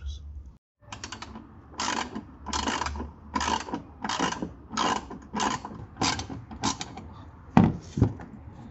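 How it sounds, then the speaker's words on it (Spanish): Ratchet with a 10 mm socket turning hex-head screws on a 2016–2023 Suzuki Vitara Boosterjet, giving a close, steady run of rapid clicking strokes in about eight bursts, with a brief pause at the start. "vamos a utilizar la matraca y el dado de 10 milímetros"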